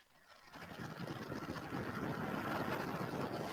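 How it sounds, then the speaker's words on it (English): Vulcan Centaur rocket engines igniting and lifting off on the first United Launch Alliance Vulcan flight, a broad, rumbling roar that builds steadily from quiet and stays loud and dense to the end, with no voices. "liftoff of the first United Launch Alliance Vulcan rocket"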